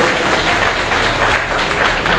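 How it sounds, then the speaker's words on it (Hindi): Dense, steady applause from a crowd welcoming a guest at a fire brigade ceremony, filling the whole brief moment at an even, loud level with no voices standing out. "तालियां बजा के इनको वेलकम करें"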